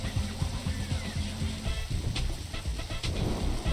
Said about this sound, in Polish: Oj, burza.